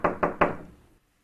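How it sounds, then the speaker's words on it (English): Three sharp knocks on a door, evenly spaced and close, each ringing briefly before fading into silence, as a radio drama sound effect. "someone knocks at the door."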